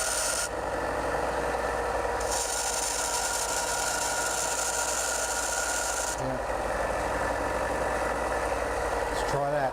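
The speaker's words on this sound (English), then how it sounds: "I'm just going to take a few thou off that wheel by letting the sander run like that over" Small power sander running over a wooden drawer wheel, a continuous buzzing rasp with the pitch and loudness shifting as contact changes, with a voice speaking faintly beneath at times.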